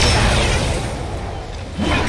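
A shockwave hammer strikes in a video game with a heavy, booming impact at the start, the low rumble lingering and then swelling again near the end, with voices faintly mixed in.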